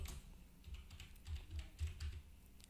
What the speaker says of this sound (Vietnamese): Ở đây tôi sẽ gõ là YouTube.